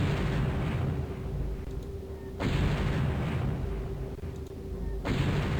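Artillery fire in the Spellcross strategy game: three heavy booming shots at steady intervals, each a broad burst that fades into a continuous low rumble, with no talk.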